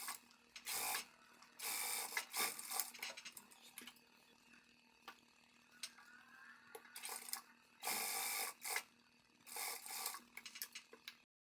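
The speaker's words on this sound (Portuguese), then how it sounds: "agora eu vou lá para a máquina reta passar a costura aqui" A straight-stitch sewing machine sews a hem on a ruffled top, heard as short bursts of rapid mechanical clatter with quiet gaps between runs, close and without talk.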